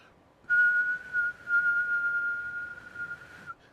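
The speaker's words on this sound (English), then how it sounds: "Is there any information on this plain old sine wave?" A plain steady sine-wave tone sounds for about three seconds at a single pitch, clean and continuous, starting and stopping abruptly over faint background hiss.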